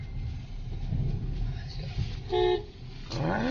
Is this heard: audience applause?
no